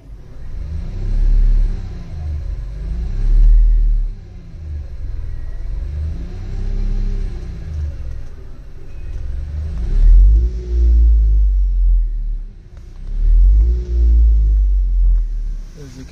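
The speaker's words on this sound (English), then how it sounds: "See, this is the sound of the electric motor," Electric motor of a Fiat 500 converted to electric drive, keeping its original gearbox, accelerating repeatedly in rising and falling surges with a low whine and rumble, close and fairly loud.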